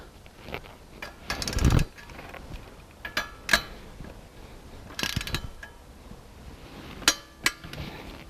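A torque wrench tightens a bolt on a Rotax 912S aircraft engine with sparse metallic clicks and ratcheting snaps, close and fairly quiet, scattered over several seconds.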